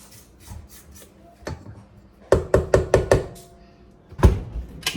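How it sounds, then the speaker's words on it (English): A spatula scrapes the sides of a mixing bowl of holiday cookie dough, a few soft rubs followed by a quick burst of five or six sharp knocking scrapes and one last firm scrape, close and fairly loud, with no talking. "I'm just going to scrape down the edges of the bowl real quick."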